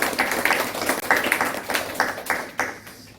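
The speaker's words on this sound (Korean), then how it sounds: "우리 박수로 하나님께 영광 올려드립니다." A church congregation at a Sunday worship service claps together in a steady, moderately loud rhythm of distinct hand claps, some irregular, fading toward the end.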